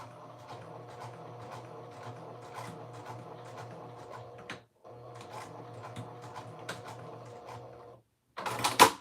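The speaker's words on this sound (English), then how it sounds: "I'm going to go behind it with the serger." Serger overlocking a dress seam: two steady runs of rapid mechanical whirring and ticking, split by a brief pause, then a short, louder rattling burst at the end.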